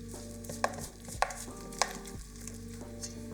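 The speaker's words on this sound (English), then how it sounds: "Add half the flour and mix." Flour being stirred into baguette dough in a bowl, with three evenly spaced soft knocks of a utensil against the bowl over a low steady hum, quiet and close.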